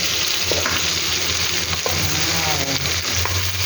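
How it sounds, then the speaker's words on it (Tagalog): Mung beans frying and being stirred in a pan for ginisang monggo with cabbage, a loud continuous sizzle with occasional scraping stirs. "Ilagay natin ang munggo."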